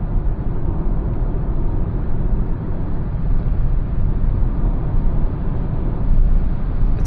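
Steady road and wind roar fills the cabin of a 2025 Citroën eC3 Max electric car as it accelerates to 130 at night, a dense constant rumble with no speech.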